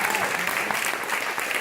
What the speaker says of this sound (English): So we have a round of applause for our referees